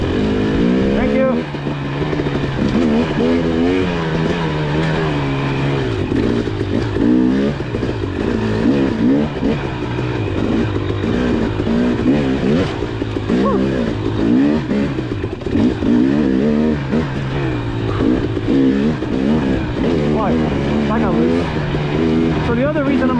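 A motorcycle ridden over off-road terrain at a demo day, its engine revving up and down close by in a continuous, shifting drone with no pauses.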